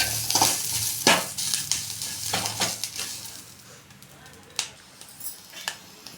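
Green chilies frying in oil in a pan give a bright sizzle with clinks of a utensil stirring them, strongest early on and fading to quieter crackles.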